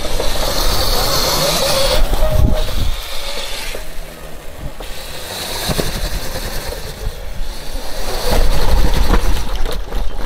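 A modified Sur-Ron electric dirt bike runs at full throttle on an outdoor trail, giving a loud, steady whining drone with rushing wind noise that dips briefly midway and then swells again, with no talking.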